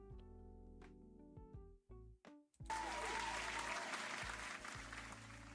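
A canned applause effect triggered during a live art stream: a few tonal beeps and blips give way to a sudden burst of crowd clapping that stays dense and steady to the end.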